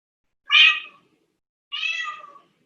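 A house cat gives two clear, close meows about a second apart, the first brighter and the second slightly longer, in an otherwise quiet room.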